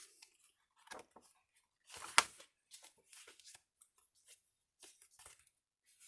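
Journal paper and an envelope are handled in short bursts: crinkles, rustles and a sharp crackle, with quiet gaps between the movements and no talking.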